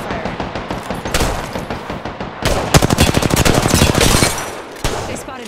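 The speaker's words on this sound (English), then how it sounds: "They spotted me. I'm taking fire." Rapid automatic gunfire in a video game shooter, a dense stream of loud close shots with bursts around the middle and a lone shot near the end.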